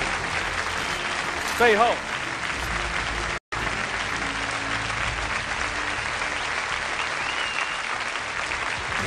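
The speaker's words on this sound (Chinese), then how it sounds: "想请热烈的掌声，持续五秒的掌声" Studio audience applause fills a TV studio during a televised talent show, a dense, steady clapping that continues throughout, with a brief voice rising over it early on.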